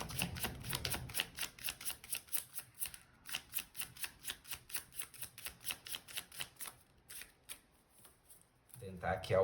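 A deck of tarot cards being shuffled by hand, giving a rapid series of crisp riffling flicks in a steady rhythm, close up, with a little handling noise at the start and end.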